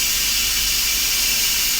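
An Instant Pot pressure cooker releases steam under a towel in a kitchen, a loud, steady, close hiss with no break.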